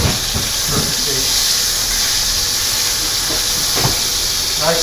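Meat sears in a small sauté pan over medium-high heat. A loud, steady sizzling hiss runs throughout, and a faint voice is heard now and then underneath.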